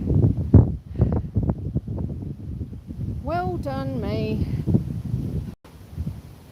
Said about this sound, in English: it's super windy up here when you get to top